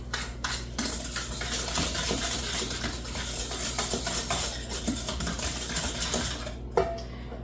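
A whisk clinks quickly and steadily against a bowl while mixing in brown sugar, a busy run of metallic taps and scrapes that continues for several seconds with no talking.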